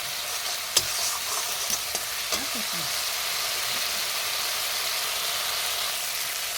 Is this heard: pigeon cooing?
no